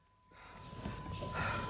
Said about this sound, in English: panting gives away what he's put his body through